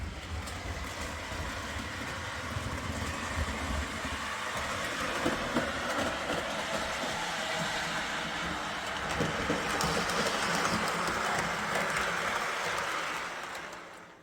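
A heavy MTH electric model train, about ten pounds and running on roughly 4 volts, rumbles steadily around a track with tight curves, a continuous near rolling drone with faint clatter that fades out at the end.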